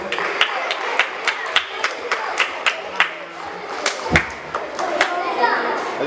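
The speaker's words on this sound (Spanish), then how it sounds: "Fuerte aplauso para Fabricio." Children in a school classroom clap for a classmate at a tribute event, a loose, fairly close patter of distinct handclaps with uneven rhythm and young voices chattering underneath.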